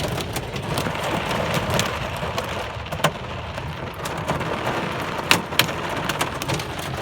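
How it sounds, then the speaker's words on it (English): Heavy rain pours down continuously during a thunderstorm, with hail adding a few sharp, loud clatters as stones strike nearby surfaces. "More hail."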